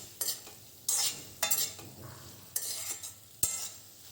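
A spoon scraping and stirring tomato chutney in a pan in repeated strokes, with soft sizzling underneath and no talking.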